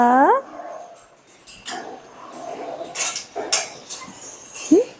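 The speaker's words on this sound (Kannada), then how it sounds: "ಆ ನೋಡಿ ಪಪ್ಪಿ ಕೂಡ" Brief high whimpers from a puppy at a cow shelter come at the start and again near the end, with light clattering and quieter background sounds between them.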